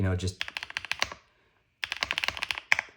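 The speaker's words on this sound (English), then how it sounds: "Just typing in general has been really fun for me." Quick bursts of crisp typing on an Epomaker P65 aluminum mechanical keyboard, clacking keys in fast runs, pausing briefly before another flurry of keystrokes, close and fairly quiet.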